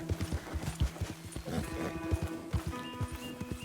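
Horse hooves clip-clop steadily in Red Dead Redemption 2, a close, regular trotting rhythm of hollow thuds with a brief whinny partway through and faint background ambience.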